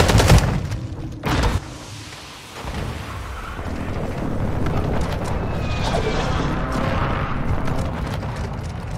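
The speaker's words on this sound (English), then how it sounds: "Friendly airstrike in the AO." Rumbling friendly airstrike explosions and scattered gunfire fill a video game team deathmatch on the Himmelmatt Expo map, with a loud burst near the start followed by a continuous heavy roar.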